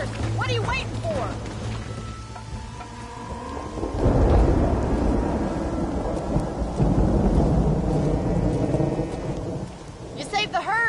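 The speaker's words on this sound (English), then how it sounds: "The storm's getting worse." A raging thunderstorm in Red Dead Redemption: heavy rain pours steadily while deep thunder rolls in loudly around the middle and lingers, with voices calling out briefly at the start and end.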